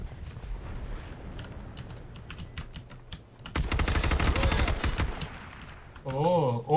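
Gunfire in the battle royale game H1Z1 King of the Kill comes as a dense, loud volley of rapid shots in the middle, preceded by quieter clicking and followed by a wavering electronic tone.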